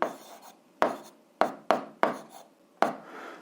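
An algebra expression written by hand on a surface, a few sharp separate taps and short scratchy strokes, close and quiet, no voice.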